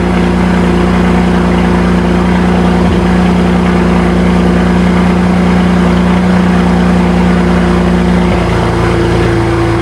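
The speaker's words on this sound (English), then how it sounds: "The car is running." A BMW Z4 with the N54 engine idles steadily, a continuous low hum with a faint change in tone near the end.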